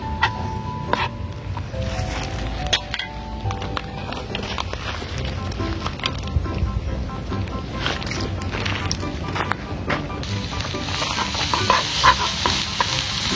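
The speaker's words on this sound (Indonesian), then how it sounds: "Kita aduk-aduk sampai merata ya sobat" Bubur petis, a Bumiayu specialty, stirred in a pan, with continuous scraping and stirring over a steady sizzle and a few sharp utensil clinks throughout.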